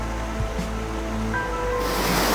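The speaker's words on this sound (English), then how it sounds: "It's a raging torrent we've got across." A raging river torrent on New Zealand's Main Divide, near a big waterfall: a steady, loud broadband roar of rushing water that fills the whole clip with no break.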